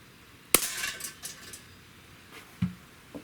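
A Smith & Wesson M&P 40 BB pistol fires one sharp, loud shot at close range during a target shooting session, followed by small clinks and rattles, then a quieter knock near the end; no speech.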